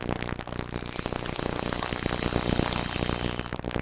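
A steady, loud hiss of air rushing into a FoodSaver vacuum canister as its lid knob releases the vacuum, rising and holding for about two seconds before easing off, with faint clicks underneath.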